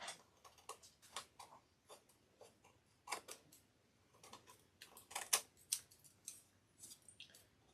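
Scissors trimming paper or canvas while painting a picture, a series of crisp close snips, some quick pairs and some spaced out, quiet and alone with no voices.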